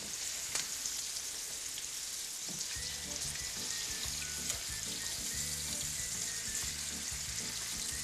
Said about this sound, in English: let me flip these tenderloins